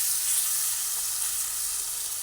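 Okra curry sizzles in a pan after a splash of water is added, giving a constant, close frying hiss without speech.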